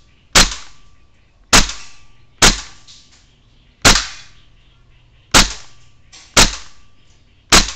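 A WE SMG-8 airsoft gun fires seven single shots, each a sharp, loud crack with a short ringing decay, spaced about a second apart with slight irregular timing.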